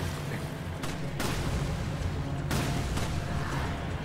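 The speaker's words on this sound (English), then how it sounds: "So many explosions, dude." Explosions boom in the video game Resident Evil 5, rendered as a dense, loud roar of blasts with several sharp bursts and rolling rumble over a few seconds, with no speech over it.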